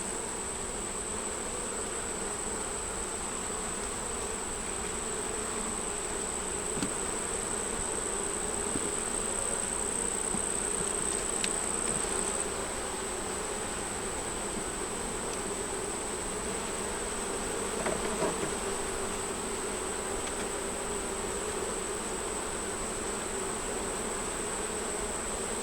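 Bees swarm around an open beehive frame, keeping up a continuous close buzzing hum, with a steady high tone above the drone and a few brief nearby passes.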